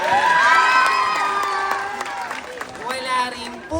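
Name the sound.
audience applause and cheering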